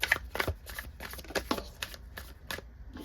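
A Light Seers tarot deck being shuffled by hand: a quick, irregular run of soft card riffles and slaps, close and fairly quiet, with no voice over it.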